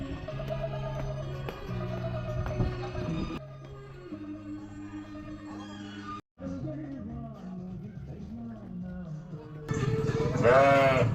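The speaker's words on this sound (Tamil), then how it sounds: "ஒரு ஆட்டு பண்ணை இருக்குது, அதை பார்க்க போகிறோம்." Goats and sheep at a goat farm in India let out bleats, with one loud, wavering cry near the end rising over a steady, tonal background.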